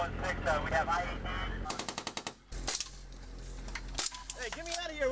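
Bursts of rapid automatic gunfire and single shots in a war scene during an insurgent ambush on U.S. forces near a city, sharp loud cracks in quick rhythmic volleys with pauses and a voice briefly between.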